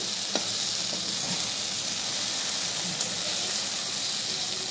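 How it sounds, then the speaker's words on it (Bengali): Taro stolons (kochur loti) fry in a pan in a vegetarian recipe made without shrimp or coconut, a steady close sizzle and hiss running throughout with faint stirring scrapes. "এই দেখুন সুন্দরভাবে ভাজা ভাজা হয়ে গেছে"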